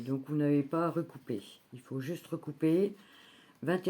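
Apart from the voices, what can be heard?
No distinct noise like a dog, phone or traffic.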